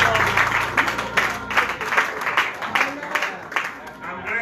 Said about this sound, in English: Give the Lord a great round of applause.